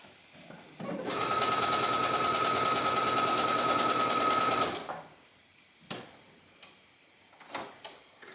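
A sewing machine stitches a blouse in a steady, loud, fast run of needle clatter lasting several seconds, then stops, followed by a few quiet clicks and handling sounds.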